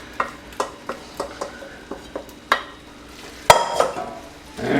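A spoon scrapes and knocks rhythmically against a pan while stirring thick dahl curry, roughly a dozen close strokes with faint sizzling underneath and a louder clatter near the end.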